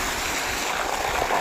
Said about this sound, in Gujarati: પાણીનું પ્રેશર અને બહુ જાજુ છે